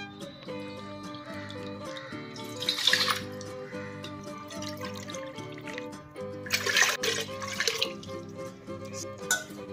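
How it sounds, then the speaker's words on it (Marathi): Measured cups of water are poured into a pressure cooker holding soaked urad dal, with two distinct splashing pours over a quiet background hum. "आता 7 वाट्या मला पाणी टाकणार आहे याच्यात"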